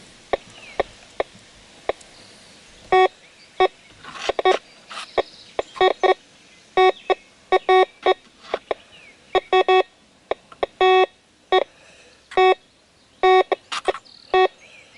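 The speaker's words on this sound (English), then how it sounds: "This metal detector, as you can see, seems to do better with the depth turned up on it for some reason." A Garrett GTA 350 metal detector gives clear electronic beeps, some single and some in quick clusters, at irregular intervals against a quiet background.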